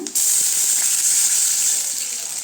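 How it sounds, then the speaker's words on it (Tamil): A steady, loud hiss of water poured onto sautéed onions in a hot pan for wheat rava upma, sizzling continuously without pause. "இப்போ தண்ணி சேர்த்துக்கலாங்க"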